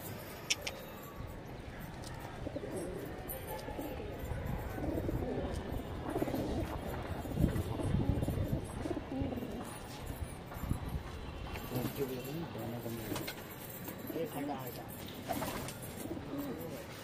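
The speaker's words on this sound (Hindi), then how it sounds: "कबूतर आगे आगे है" Pigeons cooing during a pigeon-flying hobby session in Bareilly, their soft repeated coos steady and fairly close amid a busy outdoor mix, with people talking now and then.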